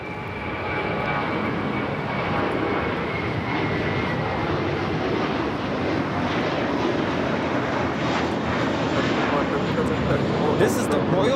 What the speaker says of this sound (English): Do have a JetBlue A321 now taking off here on the south side.